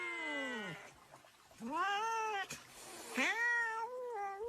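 A cat gives a series of three or four drawn-out, rising and falling meows, fairly close and clear against a quiet background, with no one speaking over them.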